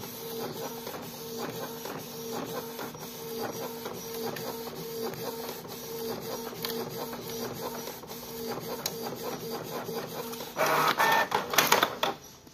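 A modified Canon IP2770 inkjet printer runs steadily, its head carriage whirring and clicking in a continuous mechanical rhythm, then ends with a louder burst of paper-feed rattling near the close.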